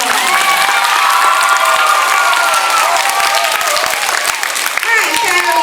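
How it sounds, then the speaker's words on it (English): Applause and cheering from students at a primary school assembly honoring their teachers, a loud, dense round of clapping with crowd voices filling the whole stretch before fading slightly near the end. "let's give all of our teachers a big round of applause"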